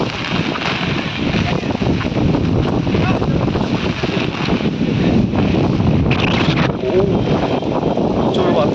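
Strong gusting wind from Cyclone Remal in Bogura buffets the microphone with a loud, continuous roar and rumble, close and unbroken throughout, and there is a voice amid it.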